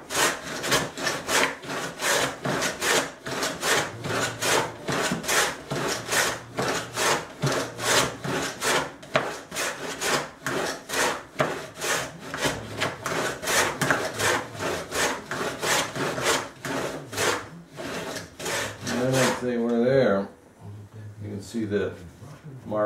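A Sandusky 177 dado plane cuts a dado in wood in rapid rhythmic rasping strokes, close and loud, ending with a few slower scrapes and a quieter pause.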